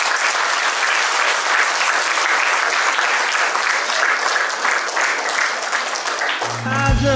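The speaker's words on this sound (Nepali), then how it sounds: "ताली बजाउनुहोस्।" Wedding guests break into loud, sustained applause right after the ring exchange at a ceremony, a thick wash of clapping hands that keeps going until a tone sounds near the end.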